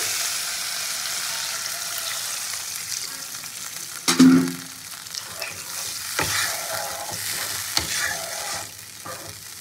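Cumin powder and spices fry in a pan under steady sizzling while a utensil stirs them, with a few sharp scrapes and knocks against the pan standing out over the hiss.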